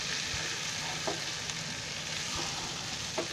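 Spiced potato bhaji mixture stirred in a pan over a lowered gas flame, a steady close sizzle throughout with a few soft scrapes of the spoon against the pan.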